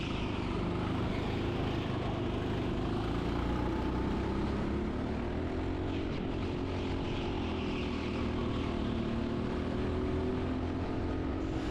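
Go-kart engine droning steadily on the track at TeamSport Reading, a continuous buzzing whine with shifting pitch held loud and close throughout, with no talking.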